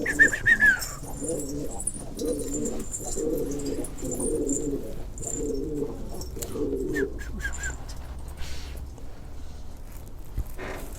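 Pigeons in a coop give a run of close, repeated low cooing phrases for several seconds, with a few higher chirps and a steady background hum.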